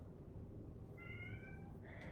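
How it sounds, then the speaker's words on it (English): A house cat meows faintly in the background, two short drawn-out calls in the second half over a low steady room hum. "You can hear my cat in the background."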